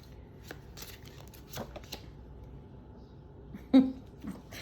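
Soft rustling and riffling of cards being shuffled close by, quiet and uneven, with a sharper knock near the end.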